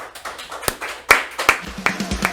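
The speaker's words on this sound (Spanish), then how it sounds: "Regálale un aplauso al Señor." Church congregation applauding after prayer, a few scattered claps and taps standing out sharply over a low murmur, close and uneven rather than a sustained ovation.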